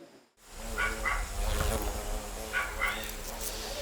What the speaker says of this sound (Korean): 도시로 진출한 말벌이 골목 깊숙한 곳까지 들어와 집을 짓기 시작한 것이다.